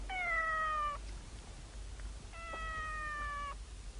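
A domestic cat gives two clear, drawn-out meows, each lasting about a second, separated by a short pause and heard close by against quiet surroundings.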